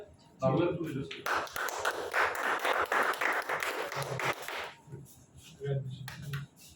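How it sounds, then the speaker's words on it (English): Audience applause at a corporate felicitation ceremony, a dense burst of many hands clapping for about four seconds that then fades out, with a voice speaking before and after it. "give a huge round of applause for Manish and Chetra"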